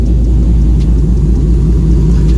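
A 1999 GMC Sierra 2500HD engine idling on all eight cylinders after fuel injector replacement, giving a steady, loud, continuous low rumble with even exhaust pulses and no talk.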